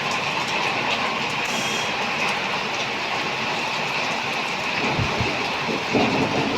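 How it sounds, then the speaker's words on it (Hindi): Heavy early-morning rain, the first of the winter, pours down in a dense, continuous hiss with scattered heavier drips and splashes, steady and fairly close, with no talking. "तो देखिए कितनी और बारिश हो ये रही है।"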